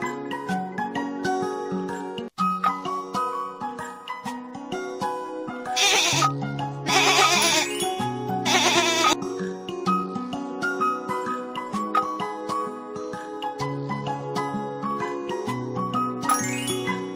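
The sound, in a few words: goat bleating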